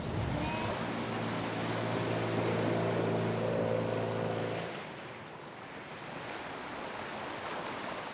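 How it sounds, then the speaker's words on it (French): Running water in a valley with a waterfall on a Polynesian island, a loud continuous rushing roar nearby that eases slightly midway, with no talking. "Le bruit de l'eau qui coule."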